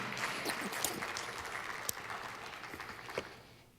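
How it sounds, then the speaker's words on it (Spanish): Church congregation applauding during a Spanish-language sermon, a steady wash of clapping at moderate level that swells early and gradually fades out over a few seconds, with no talk over it. "denle un fuerte aplauso al Señor"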